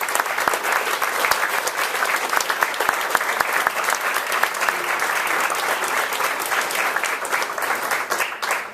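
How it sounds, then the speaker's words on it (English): A crowd at a mentoring awards ceremony claps steadily and enthusiastically, dense applause filling the room without letup for several seconds, close and loud. "give everybody a round of applause"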